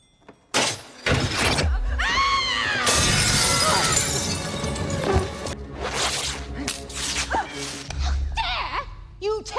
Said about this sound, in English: Bellatrix throws like a piece of glass right before they teleport away